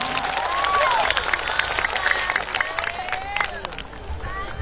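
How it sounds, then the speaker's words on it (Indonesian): Applause and cheering from an audience at an Indonesian religious lecture event, a dense continuous clapping crowd with some voices mixed in throughout. "Tepuk tangan untuk BSI."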